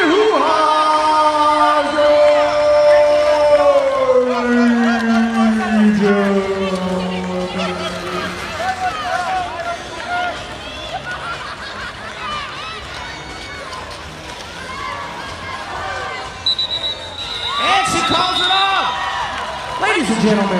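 Roller derby crowd at a semi-final game cheering and shouting, with a long sustained roar of many voices and whistles that fades a little and then swells again near the end, heard close and loud throughout.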